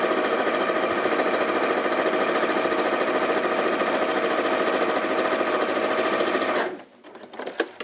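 A sewing machine runs steadily, stitching a fabric strip with a quarter-inch seam, loud and continuous for several seconds before stopping abruptly, followed by faint handling rustles.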